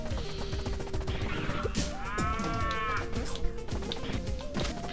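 A single drawn-out cow moo from the Pizza Tower video game rises and falls midway, sitting in a dense bed of game music and clattering effects.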